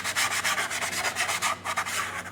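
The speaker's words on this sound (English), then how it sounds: "scuff it a little bit." Close, continuous rubbing strokes scuff and roughen a surface during a seat belt installation in a Jeep FSJ, a steady rhythmic abrasive scratching with no voices.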